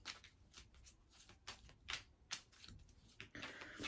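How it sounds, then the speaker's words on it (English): Tarot cards shuffled by hand in quick, uneven riffling bursts with soft papery slaps between them, close and fairly quiet, with no voices. "I love shuffling my cards."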